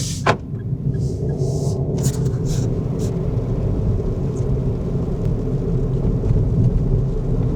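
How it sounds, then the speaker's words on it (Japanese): The 660cc naturally aspirated engine of a 2025 Daihatsu Move (LA850S) revs and pulls steadily under a constant low rumble, with faint clicks near the start, continuous and fairly close. "若干エンジンはうなりますが"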